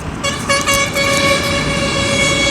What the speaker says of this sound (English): traffic is there, heavy traffic